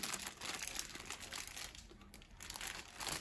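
Plastic sports trading card packets crinkle and tear open in close, continuous rustling bursts, fairly quiet, with no talking over the handling.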